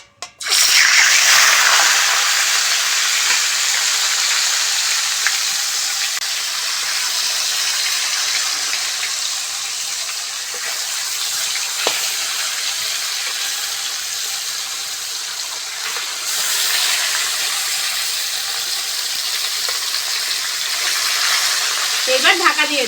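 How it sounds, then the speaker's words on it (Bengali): Shimul-kanta fish frying in mustard oil in a wok: a loud, close, continuous hiss and sizzle that holds steady for over twenty seconds, with no talking. "মাছ ভাজার জন্য কড়ার মধ্যে সরষের তেল দিয়ে দেবো"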